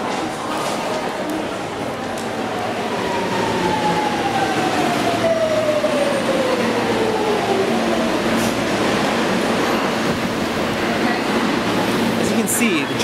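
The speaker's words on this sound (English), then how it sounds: "See, the trains get a little bit packed here, just a little bit." A train in Japan, a steady loud rumble of rolling wheels with a long descending squeal partway through, heard close from inside a packed car, with other noise throughout.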